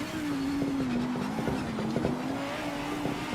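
A Lamborghini race car engine in a racing video game, holding a steady droning note that rises and dips slightly through gear changes, with faint tire noise beneath and no talking.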